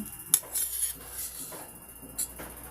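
Dishes clatter at a kitchen sink in a home kitchen, with a few sharp clinks and knocks of dishes and cutlery spaced irregularly at moderate distance, quiet between the hits.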